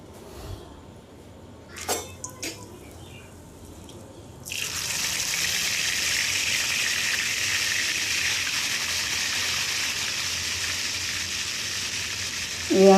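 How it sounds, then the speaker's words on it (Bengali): Chicken meat hits a hot pan and sizzles loudly and steadily after a few short knocks and quiet moments at the start, the frying hiss carrying on continuously to the end. "বারে বারে এই মাংসটাকে ভাজতে দিয়েছি।"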